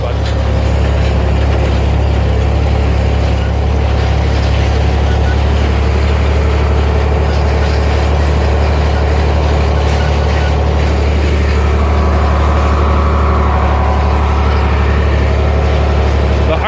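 A John Deere 5020 tractor pulling harrows across wheat stubble gives a loud, constant low diesel drone, heard from close in the cab, with faint rattling over the top.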